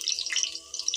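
Chopped garlic sizzles in hot mustard oil, a brief, moderately quiet crackling hiss with uneven pulses.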